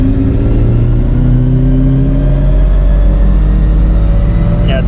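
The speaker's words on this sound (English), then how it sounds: "you hear the blow off valve a lot more" A Subaru STI tuned to Stage 2 revs hard on a dyno, its engine note a steady loud drone with rising harmonics, closing with a brief hiss near the end that fits a blow-off valve venting.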